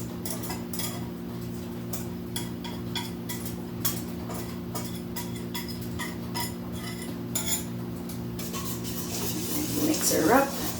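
Spoon or whisk scraping and clicking steadily in a bowl as cornmeal muffin batter is mixed, close and moderately loud over a constant low hum, growing busier toward the end.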